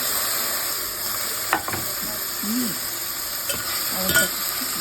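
Chicken sizzling in a pan for tinola, a constant close frying hiss with occasional scrapes and knocks of stirring, no talk.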